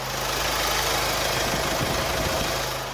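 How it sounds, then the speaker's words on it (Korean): A 2016 Ssangyong Tivoli Air diesel SUV idles with its bonnet open, recorded close to the engine. It gives a steady, regular diesel clatter and low rumble that holds even throughout, with no voices. "역시 디젤 엔진답게 디젤음은 들려주고 있지만 굉장히 규칙적인 엔진 사운드까지 잘 들려주는 모습이고요."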